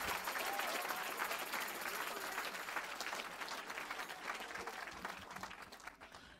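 A church congregation claps and cheers in sustained applause during a lively worship service, the dense crowd noise steady and loud before easing slightly toward the end.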